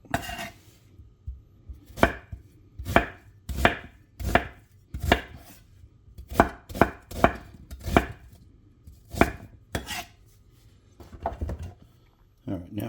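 A knife chops food for beef stew in a run of sharp, separate knocks on a board, irregular in rhythm with short pauses, close and clear.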